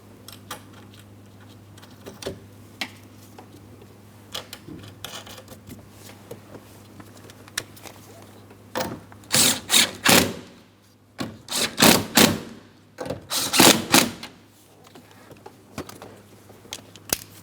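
Mounting nuts on a 2003-2007 Cadillac CTS side mirror are run on and snugged up, giving faint scattered clicks and then bursts of rapid ratcheting or power-tool whirring in short runs.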